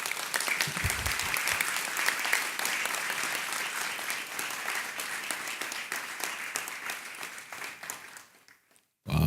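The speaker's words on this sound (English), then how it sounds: "I think it's time to give yourselves a round of applause." A large audience gives a long, steady round of applause at a public accounts committee meeting, dense clapping that holds even, then thins and stops abruptly near the end.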